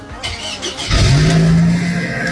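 A 2007 Toyota Camry 2.0 engine revs up loudly and close after a brief rattle, holding a steady raised drone to the end.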